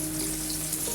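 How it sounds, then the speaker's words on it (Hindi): Okra (bhindi) frying in hot oil for a Mughlai bhindi chicken keema, a steady close sizzle filling the whole second with no talk. "अब मैं इसमें भिंडियाँ ऐड करती हूँ। हमारा ऑयल जो है वो गर्म हो चुका है।"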